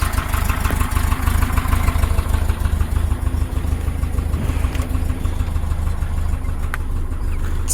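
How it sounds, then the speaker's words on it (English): A 1966 Porsche 912 engine with rebuilt carburetors idles low and loud up close, a steady throbbing rumble with even mechanical clatter and no voices. "It's still idling low,"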